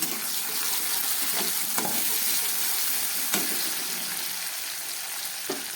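Tomatoes dropped into a pan of well-fried onions for a rohu fish curry set off a steady, close sizzle and crackle, with a few light scrapes of stirring and no talking.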